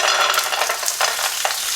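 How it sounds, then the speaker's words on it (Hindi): Cashews fry in about five tablespoons of hot oil in a frying pan, giving a steady, close crackling sizzle that holds through the whole clip with small stir-like bursts. "इसमें सबसे पहले जो आप ऐड करेंगे वो है काजू डालेंगे।"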